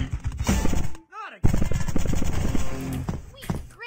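Paintball gun shots in the video game Greg Hastings Paintball, a flurry of rapid popping bursts with brief pauses and a couple of whooshing sweeps, fairly loud, with a voice talking intermittently among the shots.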